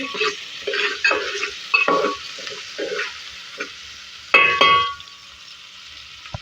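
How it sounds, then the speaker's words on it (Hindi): Red chillies frying in a pan with oil and onions for beef keema, giving a steady sizzle broken by repeated scraping stirs and a few metallic clangs of a spoon against the pan, close up and with no talking. "इसी के साथ नाज़रीन कुछ रेड चिल्ली डाल देंगे और इसको भी डाल के फ्राई करेंगे।"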